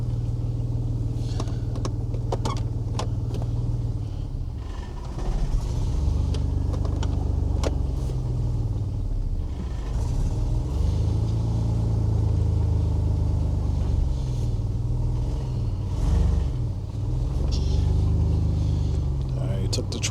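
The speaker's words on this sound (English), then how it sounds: "Truck is on, so I'm about to just back it up just a little bit." A Chevy S10 pickup truck's engine idles and rumbles steadily as the truck is backed up a short way, its low drone continuous and fairly close, with a person talking over it throughout.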